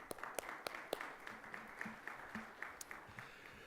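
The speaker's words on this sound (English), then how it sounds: "So a big round of applause to all who make these conversations happen." An audience at a Columbus Metropolitan Club forum applauds, a soft, fairly distant patter of claps with a few sharper individual hand claps standing out.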